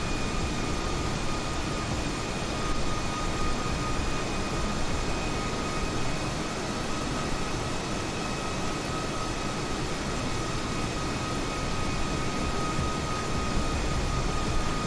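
A steady, unbroken engine drone from an airplane in a flight simulator video game holds at an even, fairly loud level throughout, with a faint whine layered over it and no talking.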